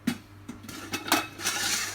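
A metal pot from a gas popcorn machine clanks and rattles as it is lifted and handled for washing, a run of sharp, close metallic knocks and scrapes.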